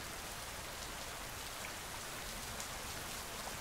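Steady rain falls in a dense, even hiss, continuous and soft throughout with no breaks or distinct drops standing out.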